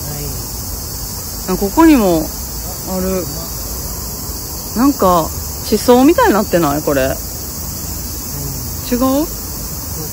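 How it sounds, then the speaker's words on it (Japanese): Cicadas drone steadily through a night zoo near apartment buildings and boats, a continuous high buzzing bed beneath people chatting close by. "こんなにセミの鳴き声聞いたん今年初かも"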